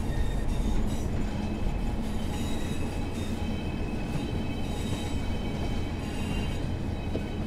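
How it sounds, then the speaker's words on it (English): A train on the Blackpool Branches route in Train Sim World 4 runs steadily as it approaches Blackpool North, a continuous close rumble of wheels and carriage noise with faint squeals, no voices. "We will shortly be arriving at Blackpool North, where this train terminates."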